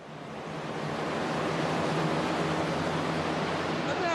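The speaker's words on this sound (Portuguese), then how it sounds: "Então vamos ligar o ventilador." An electric fan blows a steady stream of air, swelling in over the first second into a constant broadband whoosh with a soft low rumble, close and fairly loud, with no one talking.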